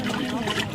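Cold water is stirred fast by hand, giving a brief, continuous swishing and sloshing close by.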